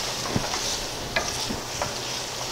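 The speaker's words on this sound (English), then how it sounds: "I don't want to cook my shrimp anymore. Just put my pasta in there." Pasta is stirred into shrimp and squash in a hot pan, a soft steady sizzle with a few scraping clinks of the utensil, close and continuous.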